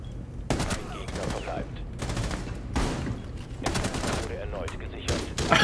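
Rapid gunfire from a weapon in the video game Rainbow Six Siege, coming in several loud automatic bursts separated by brief pauses, close and dominant in the mix.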